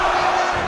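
Wrestling arena crowd roaring in a loud, sustained wave of cheers and shouts during an independent brawl event, reacting to a signature elbow smash, with no clear talk over it.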